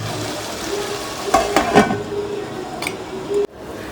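Masala for matar paneer cooks in a pan with a soft sizzle and a couple of stirring scrapes, ending abruptly with a clack as if a lid is set down.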